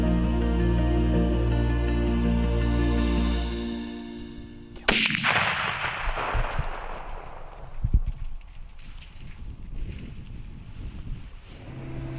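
A single loud rifle shot fired at a buck on the opening day of deer season rings out sharply, followed by a rolling echo and wind noise over open ground after a steady droning background cuts off.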